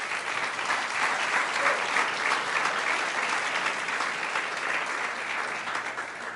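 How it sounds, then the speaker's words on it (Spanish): A church congregation applauds continuously during a sermon, a full, steady roar of many hands clapping at even loudness before easing slightly at the end. "Denle un aplauso al Señor."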